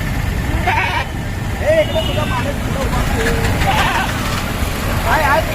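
Goats bleat several times with wavering cries over a constant hum of crowd chatter and passing traffic at the Tuesday goat market outside the Solapur APMC market.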